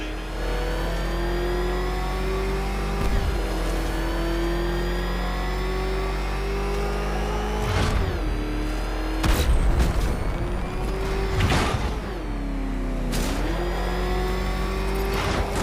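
The Batmobile engine in the video game Batman: Arkham Knight roars and revs, a loud sustained drone rising and falling in pitch, with heavy booming impacts and whooshes breaking in several times.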